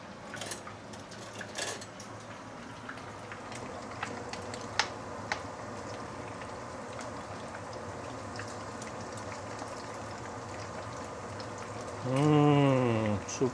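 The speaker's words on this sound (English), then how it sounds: "This is after about 2 minutes frying using medium heat." Steady crackling sizzle of pork belly frying in a pan over medium heat, with soft pops throughout and a brief low tonal sound near the end.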